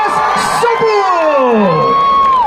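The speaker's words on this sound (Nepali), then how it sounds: "एकपटक सबैले हात माथि गरेर फेरि जोरदार ताली" A festival crowd cheers and whoops loudly at a welcome, with rising and falling shouts from many voices layered into one dense, close roar.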